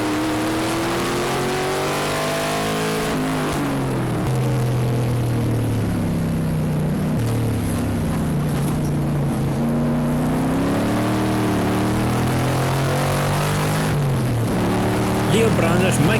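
Race car engines during a 4-hour endurance race at Dezzi Raceway, several cars droning and shifting pitch as they work through slower traffic, a steady loud mix of revving with commentary over it.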